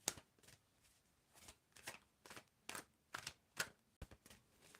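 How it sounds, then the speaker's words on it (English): Tarot cards are shuffled by hand close up in a quiet room, a series of about ten crisp riffling bursts at an even rhythm. "So you can tell me when to stop shuffling."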